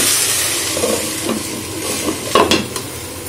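Malabar spinach seeds and prawns frying and being stirred in a pan, a steady sizzle with a few scraping and clinking utensil sounds near the end, no voices.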